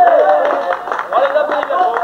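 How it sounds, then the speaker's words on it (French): Outdoor crowd at a comic triathlon clapping for finishers in Sillé-le-Guillaume, 1990: a moderate, continuous patter of applause with a voice talking over it. "Eh bien, on peut les applaudir encore une fois."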